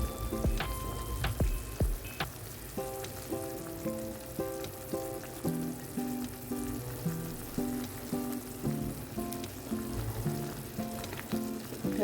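Pandugappa fish pieces sizzle in masala in a pan for Andhra-style fish curry, a steady crackling fry with occasional sharp pops and utensil knocks, while soft music-like tones play underneath.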